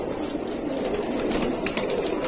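Pigeons coo at a pigeon sale, a soft continuous murmur of calls close by with no speech over it.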